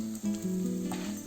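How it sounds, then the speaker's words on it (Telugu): Chutney ingredients fry in a pan over a medium flame, giving a steady, close sizzle with faint stirring scrapes and no talking. "మీడియం ఫ్లేమ్లో పెట్టుకొని ఫ్రై చేసుకున్నాము."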